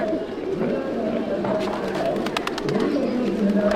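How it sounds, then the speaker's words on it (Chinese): A crowd of pigeons cooing and fluttering nearby as they rush to be fed, over steady outdoor background noise, with soft wingbeat flaps toward the end. "有人买了鸽子食在喂鸽子，鸽子都冲过去了，呜呜喳喳的一堆。"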